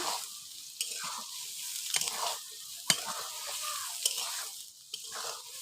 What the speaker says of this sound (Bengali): ভিজিয়ে রাখা সয়াবিনগুলো আমি দিয়ে দেবো তেলের মধ্যে দেখুন দিয়ে দিয়েছি